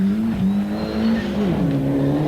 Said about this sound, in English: Driving beautifully, and the cars sound wonderful, these Sierras.